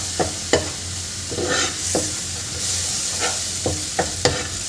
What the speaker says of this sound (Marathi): दूध घातल्यावर याला छान 1 मिनिट परतून घ्यायचं आहे.